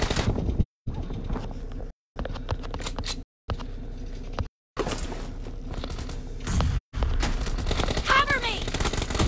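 Rapid automatic gunfire fills a PUBG Battlegrounds match in long, dense bursts broken by short silent gaps, with voices heard among the shooting.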